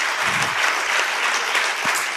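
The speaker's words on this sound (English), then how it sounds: "I think they deserve a bigger round of applause, audience." At a grand book release in Bangalore, an audience claps in a dense, even wash of applause that stays loud and unbroken from start to finish.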